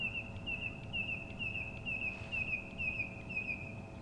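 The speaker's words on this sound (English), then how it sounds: "That's a corhan you can hear, a red-crested corhan" Red-crested korhaan calling at dawn in the bush, a repeated series of clear, high whistled notes at a steady rhythm, moderately distant over a low background hum with faint other bird chirps.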